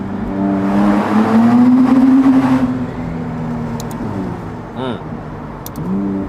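A McLaren Artura Spider V6 engine revs up hard in a tunnel, roaring and echoing off enclosed walls, then eases off with a few quick throttle blips at the end.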